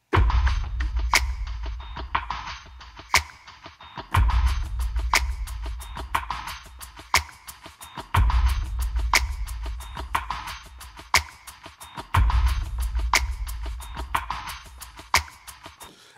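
Music loops from Loop Elements Lite play a punchy beat with booming kicks and sharp snares, repeating in four-second cycles at steady volume with no talking.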